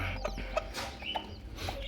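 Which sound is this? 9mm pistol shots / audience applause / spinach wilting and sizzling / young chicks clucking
young chicks clucking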